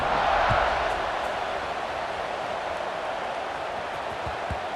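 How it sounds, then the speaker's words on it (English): A stadium crowd in the EA Sports College Football 26 game keeps up a steady, dense roar of distant voices, slightly louder at the start, with occasional thumps underneath. "this crowd is buzzing after that last score."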